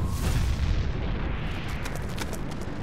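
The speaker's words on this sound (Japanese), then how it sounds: "明らかにインクじゃないだろ。 爆発の炎だったろ。" A loud, sustained explosion roars with a deep rumbling blast that fills the space and slowly settles, heard during a boss battle in the video game Splatoon 3; nobody talks over it.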